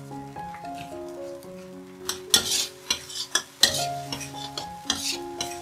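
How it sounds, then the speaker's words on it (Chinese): Vegetarian tomato-sauce pasta stir-fried in a pan, with salt, vegetable bouillon and pepper just added: a quiet start, then several sharp, close scraping and clattering strokes of a utensil against the pan over soft sizzling, with a gentle melody underneath. "炒一炒。"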